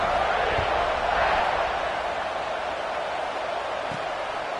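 A football stadium crowd before kickoff keeps up a loud, steady roar of cheering and noise, broad and continuous, with a couple of faint thumps underneath.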